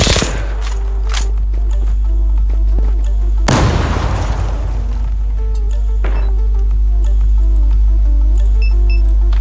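Game explosions in the shooter Zula: a sharp opening blast, then a second deep booming detonation that rolls and decays over several seconds, loud and close, with no talking.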